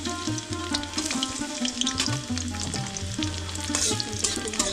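Chopped garlic frying in hot oil for khuder bhat, a busy crackling sizzle with clinks and scrapes of stirring, close and continuous.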